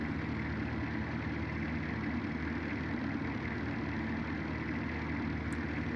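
An Automation-built V12 race car engine in BeamNG drones steadily at a constant, low, buzzy pitch, heard alone with no talk over it.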